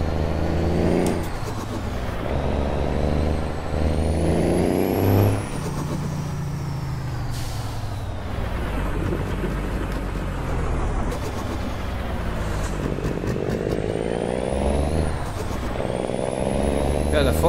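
A Kenworth K100 truck driving in Euro Truck Simulator 2, its engine droning steadily with rising and falling revs as it shifts through gears, a hiss of air brakes around the middle, under occasional talk.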